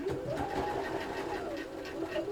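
A sewing machine stitches eyes onto a small green fabric figure, a steady mechanical hum with a fast running rhythm. It stays close and constant through the short stretch.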